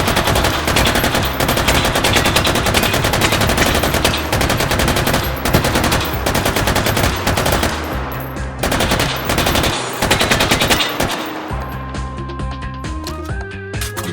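An M249 SAW machine gun fires in the H3VR virtual reality game, sustained loud bursts of automatic fire that break into shorter strings of shots toward the end.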